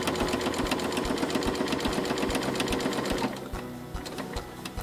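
A sewing machine stitches a zippered pencil pouch with a fast, even mechanical chatter that slows noticeably near the end as it nears the zipper, close and alone.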